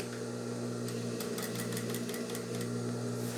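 A sewing machine stitches fabric for a handbag, a low steady hum with a quick run of rattling clicks in the middle, close and fairly quiet.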